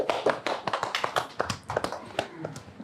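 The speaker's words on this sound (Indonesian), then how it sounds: "Tepuk tangan dong," An audience claps to welcome comedian Soleh Solihun at a Q&A event, a dense patter of many hands that stays steady and moderately loud for a few seconds with no talk over it.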